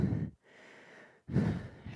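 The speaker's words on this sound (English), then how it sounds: "As you can tell, I'm breathing hard." Heavy, loud breaths from a person winded after an upper-body resistance band exercise set: two strong exhales or gasps, with a quieter breathy stretch between them. No one speaks.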